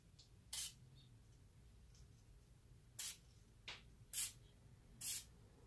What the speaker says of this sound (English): I'm gonna go ahead and spray in some lubricant right now.